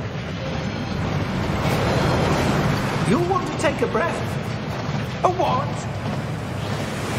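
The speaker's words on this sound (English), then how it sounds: "That waterfall washes away all enchantments." Steady rushing water from the waterfall in the Gringotts vaults in the game Hogwarts Legacy, a continuous broadband wash running throughout beneath two people talking.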